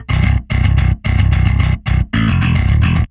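Bass guitar run through a Darkglass Ultra distortion plugin into a bass cabinet simulator, five loud chunky riff phrases of rapid repeated notes with brief pauses between, rounded, grunty distorted tone, alone.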